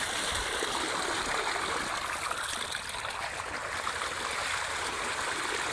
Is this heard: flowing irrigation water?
yes